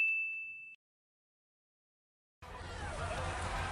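A single bright bell ding rings out and fades quickly, followed by silence and then a burst of broadband noise.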